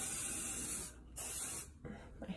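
Two close, crisp sprays of Living Proof heat protectant misted onto hair, each a bright hissing burst lasting under a second, followed by a few faint handling clicks.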